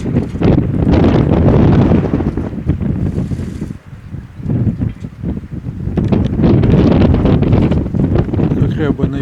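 Strong wind roaring across open water where sailboats are out, heavy buffeting gusts hitting the microphone almost continuously, with a short lull near the middle before the blast returns.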